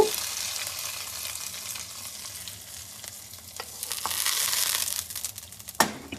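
Hot tempering of chillies and curry leaves in oil tipped into pineapple pachadi gives a steady crackling sizzle with soft stirring scrapes, swelling briefly near the end with a sharp clink.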